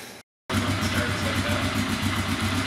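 Polaris Sportsman 500 HO ATV from 2003, fitted with a 2-inch lift kit and 28-inch tires, its engine running steadily and loud up close after a brief cut of silence, no voices.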